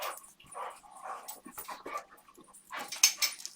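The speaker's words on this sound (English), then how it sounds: "Can you guys hear my puppies behind me? They're wrestling and going crazy." Puppies wrestling and whimpering indoors in a craft room, with soft whines, pants and yips coming in uneven bursts at moderate distance throughout.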